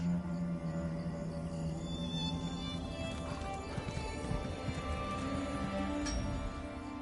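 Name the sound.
horse sounds in the video game Elder Scrolls Online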